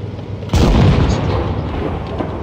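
A tank gun fires once in the online game World of Tanks Blitz, a sudden heavy boom that rolls off into a lingering rumble.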